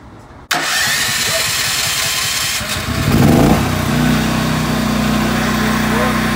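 A Westinghouse 13,500-watt tri-fuel portable generator cranks, catches after a few seconds, and settles into a steady loud idle close by.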